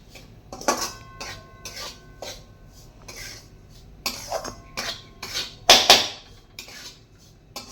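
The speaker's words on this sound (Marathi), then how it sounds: "आता परत आपण हे 2 ते 3 मिनिटं छान असं परतून घेऊया." Semolina and grated coconut scraped and stirred in a metal pan with a utensil, giving repeated rasping, clattering strokes at an uneven rhythm, close and fairly loud with no talking.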